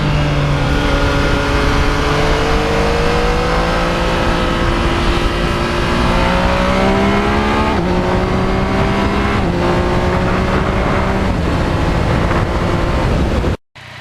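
A 2020 Yamaha MT-09 triple-cylinder motorcycle rides along back roads, its engine droning loud and close with rising and falling pitch through gear changes, then cutting off abruptly at the end.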